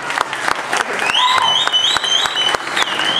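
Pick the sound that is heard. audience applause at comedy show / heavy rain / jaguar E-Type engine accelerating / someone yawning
audience applause at comedy show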